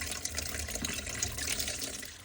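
Lake water drains from a Fountain powerboat's engine block as a faint, steady trickling and splashing flow of liquid, continuous and low in level with no voices.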